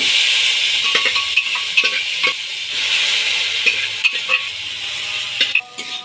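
Boiled cauliflower, potato and carrot stir-fried in a pan with chili powder and spices: a soft sizzle and hiss broken by repeated scraping and clinking spatula strokes, close and fairly loud.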